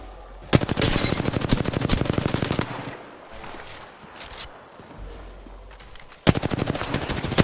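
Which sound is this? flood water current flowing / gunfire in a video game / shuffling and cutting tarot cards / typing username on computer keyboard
gunfire in a video game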